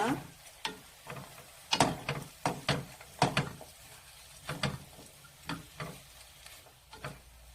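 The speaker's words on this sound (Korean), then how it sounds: "마늘이 어느 정도 익을 때까지 이걸 볶아 주셔야 돼요." A spatula clacks and scrapes against a pan as small anchovies and garlic are stir-fried over medium-low heat, giving irregular sharp knocks over a faint sizzle.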